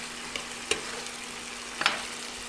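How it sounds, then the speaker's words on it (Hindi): Garlic, onion and tomato frying in a pan for a duck egg curry, a close, steady sizzle broken by two or three brief scraping stirs. "लहसुन, प्याज दे के थोड़ा सा इसको भून लीजिए। भूनने के बाद इसमें दीजिए टमाटर"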